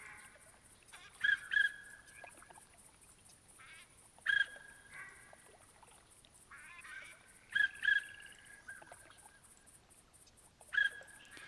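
Pintail duck calls in theHunter Classic hunting game, several short honking quacks in spaced pairs and singles over a steady faint background hum, no talking.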